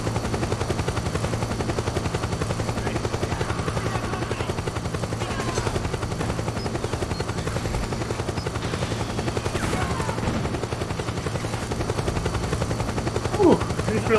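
In Metal Gear Solid 4, a hovering helicopter drones with a steady low rotor thump throughout, joined by scattered distant gunfire bursts and faint game effects, a continuous dense battlefield backdrop.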